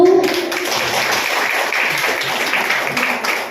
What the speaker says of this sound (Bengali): বলবো করতালি দেবার জন্য